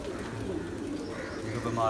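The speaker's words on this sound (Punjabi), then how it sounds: "ਇੱਧਰ ਆ ਬੈਠੇ ਆ ਜੀ ਕਬੂਤਰ" Pigeons sit nearby at a village pigeon-flying gathering, giving soft low coos under a steady outdoor murmur, with a person talking over them.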